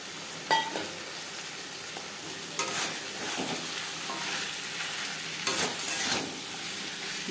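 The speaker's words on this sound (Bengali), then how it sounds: "বেগুন বেশ ভালো করে মিক্স করে দেবো।" Eggplant pieces stir-fry in katla fish oil, with a soft continuous sizzle broken by a few sharp scrapes and clanks of a spatula against the pan. The stirring is fairly quiet and nobody speaks.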